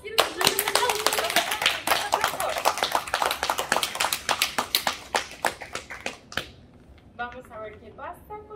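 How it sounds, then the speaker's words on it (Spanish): Children clap along in quick, uneven bursts during a Spanish-language art lesson, the sharp claps dense and loud at first and then thinning into scattered taps. Toward the end a voice speaks over the last few claps. "¡Quiero escuchar un aplauso!"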